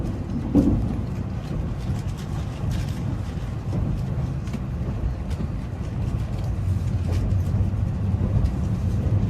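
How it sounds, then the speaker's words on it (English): Tokyo Monorail Haneda Express train bound for Haneda Airport, Tokyo, running steadily, with a continuous low rumble and rolling hum that stays at an even, moderate level throughout, with no talk. "This is Haneda Express going to airport"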